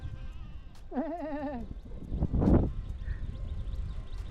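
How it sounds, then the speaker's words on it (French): A single wavering goat bleat rises up close for about a second, followed by a brief rustling burst against a steady outdoor background in the mountains of northern Vietnam. "Petite chèvre."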